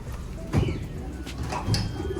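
Pigeons in a loft give soft, low coos, two short bursts close by with quiet rustling between, and no talk.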